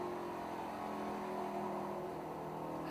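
An ARCA stock race car with over 700 horsepower runs on a short racetrack of about seven-tenths of a mile, its engine a steady, distant, faint drone.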